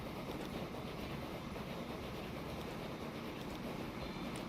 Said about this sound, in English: All the trains appear to be moving.